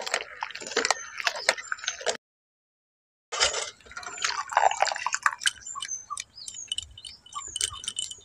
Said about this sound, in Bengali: এখন বেগুনটা কাটা হয়ে গেছে, ধুয়ে নিচ্ছি।